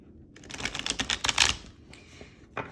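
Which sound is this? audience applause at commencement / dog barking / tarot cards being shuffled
tarot cards being shuffled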